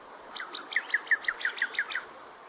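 A shelduck calls in a rapid series of about ten clipped, even-spaced notes over two seconds, clear and fairly close, with no talk over it.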